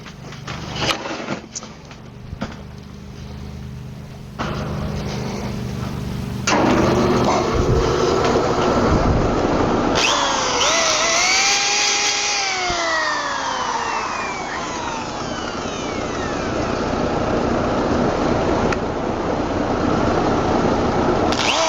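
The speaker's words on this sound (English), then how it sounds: "And I'm using a disc sander." A disc sander grinds against cypress wood for storage boxes, a loud, sustained motor whine whose pitch sags and rises as pressure changes, running without pause and without speech.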